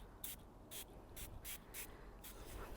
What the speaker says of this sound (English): And then we're gonna spray all over this thing, and we're gonna let it soak for like 10 or 15 minutes.